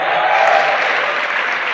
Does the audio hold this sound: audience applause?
yes